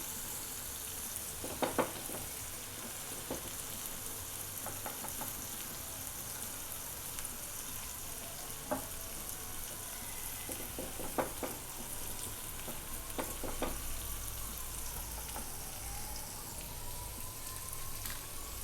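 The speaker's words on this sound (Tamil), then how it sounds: "இப்போ இது வந்து கொஞ்சம் நல்லா ரோஸ்ட் ஆகட்டும்." Pineapple roasting in butter on a tawa, a quiet steady hiss with scattered faint crackles and a few light utensil taps, fairly distant and even throughout, without talking.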